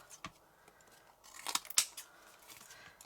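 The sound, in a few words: scissors cutting paper for a card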